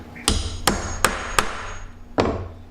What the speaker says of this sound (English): take our hammer, and we're going to drive it in there